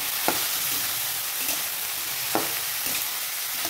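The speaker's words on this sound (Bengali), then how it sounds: "এবার নেড়ে নেব" Bottle gourd and mung dal frying in a pan while it is stirred, a steady close sizzle with a few soft scraping strokes of the spoon, no talking.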